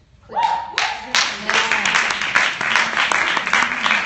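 Audience at an Orgullosa event in New York City bursting into sustained applause and clapping, loud and close, with a voice speaking over the start.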